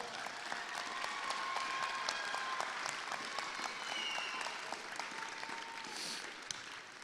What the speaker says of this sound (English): Graduates, can you give your family and friends a big round of applause?